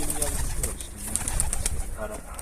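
Pigeons cooing inside a loft, soft low murmuring calls close by under a constant background hum, with faint high chirps above.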